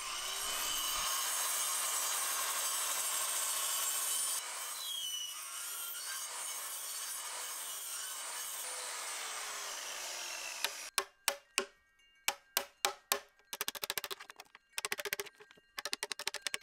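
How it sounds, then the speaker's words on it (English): Hand tools work notches into wooden beams on an abandoned farm: a long steady rasp of sawing at first, then a run of sharp, separate chisel strikes, close and clear with no talking. "We marked the exact spots where the notches will be and carefully cut and chisel out the notches"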